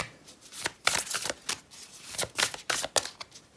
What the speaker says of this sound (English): Shuffle it first. I have tiny hands, so shuffling is not the easiest always.